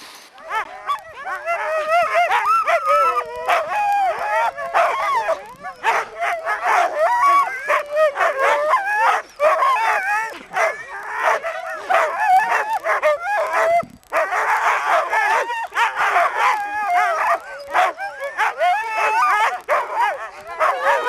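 A team of sled dogs at an outdoor sled dog race barks, yips and howls almost nonstop, a loud, dense chorus of overlapping voices close by, with only a few short pauses.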